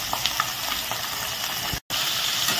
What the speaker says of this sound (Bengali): তেজপাতা জিরে সব হালকা লাল হয়ে গেছে, পেঁয়াজ দিয়ে দিলাম